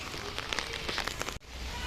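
Rain patters steadily on an umbrella while walking through a market in the rain, a soft even hiss with faint drops, broken by a brief dip near the end.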